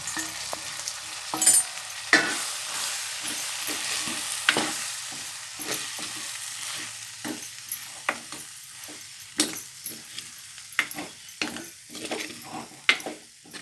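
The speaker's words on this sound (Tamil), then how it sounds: "ஒரு ஸ்பூனு மல்லித்தூள் எல்லாம் மசாலா தூளும் எல்லாம் வந்து இதில் வதக்கி போட்டுக்கிடுங்க" Coriander powder and masala powder sautéing in hot oil for a kuzhambu, a close sizzle broken by repeated sharp scrapes and clinks of a spoon stirring against the pan.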